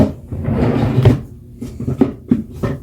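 A makeup desk drawer slides open and shut, giving a few sharp wooden knocks and scrapes close by, with a quieter rustle between them.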